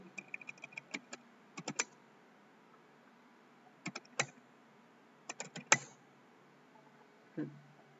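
Commands are typed on a computer keyboard into a terminal, producing quiet, close clusters of crisp key clicks in short bursts separated by pauses.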